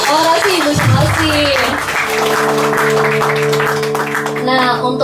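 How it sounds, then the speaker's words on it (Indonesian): Audience applause at a Reformasi anniversary protest-culture show, following a woman's oration and a song, a broad steady clapping wash that runs throughout, mixed with sustained tones and some voices underneath. "Mari kita beri tepuk tangan sekali lagi untuk lagunya dan orasi Ibu Sumarsi."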